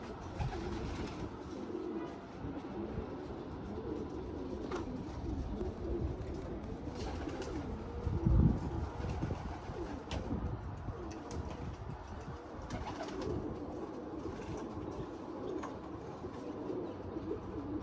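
Pigeons cooing and calling outdoors during a bird hunt, a steady murmur of coos and chirps across the whole stretch over low background noise, with one brief louder bump partway through.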